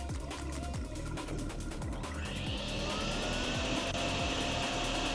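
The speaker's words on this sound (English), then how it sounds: "Vacuum it up." Drain water being vacuumed up in the drain-cleaning game DrainSim, a loud continuous suction roar with a rising, shifting whine and gurgling, steady throughout with no speech.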